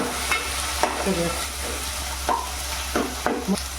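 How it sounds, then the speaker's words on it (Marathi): Garlic-ginger paste cooking in a pan for moong dal, a low steady sizzle broken by a few distinct scraping strokes of a spoon stirring the paste, close and clear. "लसूण अद्रक पण आपल्याला शिजवून द्यायचे आहे तर चांगलं एकजीव करून घ्यायचे"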